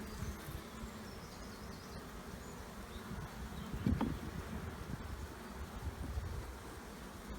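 Honeybees hum steadily around an open hive frame packed with bees, a faint continuous drone with one brief closer buzz passing by midway and no talking.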